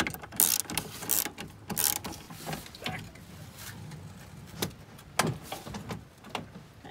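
Ratchet socket wrench and 13 mm box end wrench turning bolts while installing a Scopema swivel seat in a camper van, with a series of close, uneven ratcheting clicks and metallic clatter.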